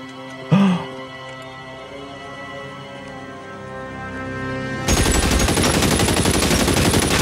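Gunfire in the PC video game LA Noire: one sharp, loud shot rings out early, then after a lull a dense, sustained burst of rapid shooting fills the rest of the clip over a low background drone.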